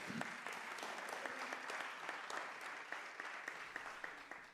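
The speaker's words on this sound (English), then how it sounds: "Let's give WPFW a big round of applause" A conference audience at a post-election gathering gives a quiet but steady round of applause, individual claps standing out over a continuous patter, somewhat distant.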